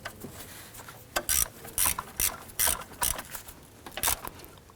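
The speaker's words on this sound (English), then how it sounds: "Let's go ahead and snug that nut down." A ratchet snugs down the nut on the alternator wire of a 1993-1997 Ford Ranger 3.0L, with bursts of quick clicking strokes close up and a few pauses between pulls.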